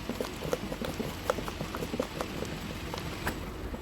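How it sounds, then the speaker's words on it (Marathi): Gram flour batter for vada pav being whisked by hand in a bowl, a steady rapid tapping and slapping rhythm, close and moderately loud with no talking. "आता हे पीठ आपण चांगलं 2-3 मिनिटं असं फेटून घेऊया"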